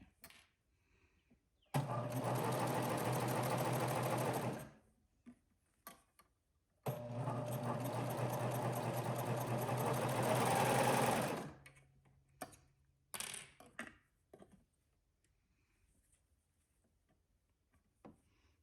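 A domestic sewing machine stitches fabric for a lounge set in two steady runs of several seconds each, followed by quiet clicks and handling sounds.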